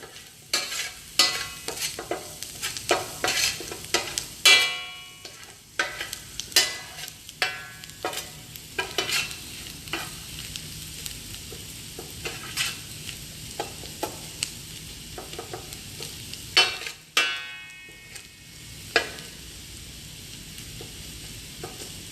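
Vegan masala cooks in a pan with brisk, irregular stirring: sharp scrapes and clinks of a spoon over a soft background sizzle, loud and close, with no speech.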